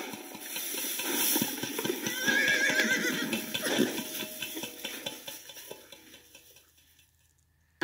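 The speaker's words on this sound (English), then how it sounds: "I've seen horses with foals." A horse whinnies loudly over a busy, hissing background with clattering, rhythmic hoof-like knocks, the sound gradually fading before falling quiet.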